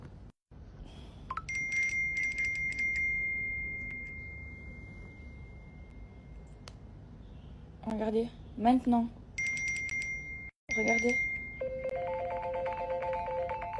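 Two phones burst into a string of ringtones and notification chimes after airplane mode is switched off, repeated electronic tones stacking up, under someone speaking French.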